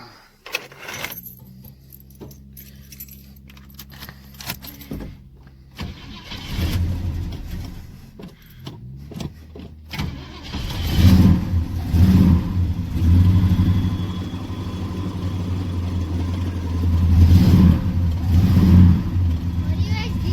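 After jingling keys and a few clicks, a car engine cranks and fires, then rumbles and revs in uneven bursts, growing louder toward the end.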